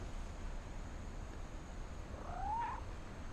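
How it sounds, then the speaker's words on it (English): A cat meows once in the video game What Remains of Edith Finch, a short rising mew heard midway over a quiet, steady background hum. "I just heard a cat meow"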